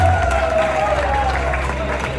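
Wedding guests applaud briefly, a soft patter of clapping under a murmuring crowd and some voices.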